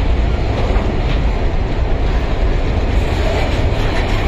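An Indian passenger train on the Hyderabad to Ayodhya route rumbles loudly and continuously, a dense, close wall of rolling wheel and carriage noise with no breaks.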